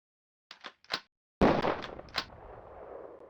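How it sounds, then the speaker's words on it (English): Sniper rifle fire in the PC game Police Quest: SWAT: a few small clicks, then one loud sharp shot that decays into a reverberant tail, with another bang shortly after. "Please reload and fire at will."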